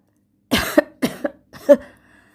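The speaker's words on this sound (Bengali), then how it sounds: "কাশির শব্দ শোনা গেল" A woman gives three short, dry coughs in quick succession, close and clear against silence, with a faint trailing hum after.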